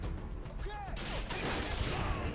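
Grenade launcher fire in Modern Warfare 2, a dense burst of gunfire and explosive booms with continuous loud battle noise throughout, close and sustained.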